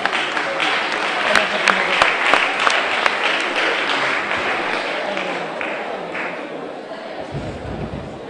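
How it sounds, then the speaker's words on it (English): An audience gives a big round of applause for Mama Ogunyemi at a prize presentation, with steady loud clapping throughout and voices mixed in underneath. "This is a big round of applause for Mama."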